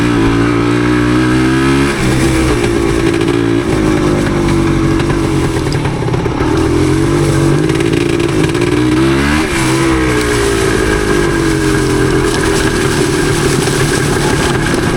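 A 1977 Yamaha DT250 trail bike is ridden through the woods in second gear. Its engine drones loud and close the whole time, with the pitch rising and falling as the throttle opens and closes, and nobody speaks.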